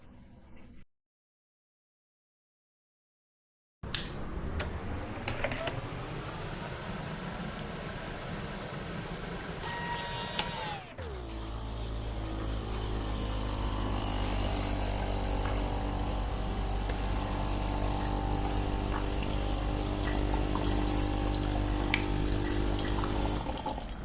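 A brief silence, then water hisses and trickles before a steady, loud pumping drone with a mechanical hum takes over and continues, from a Philips EP 2200 Series coffee machine being tested after repair.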